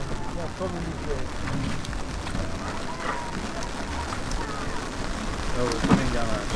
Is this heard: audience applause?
no